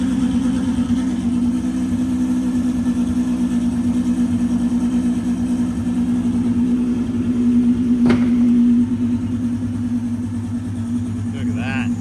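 A vehicle engine idles and warms up after starting, a loud steady low hum that holds constant for the whole stretch, with a brief faint click partway through.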